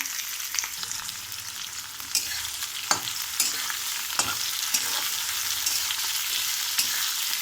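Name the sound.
onions frying in a pan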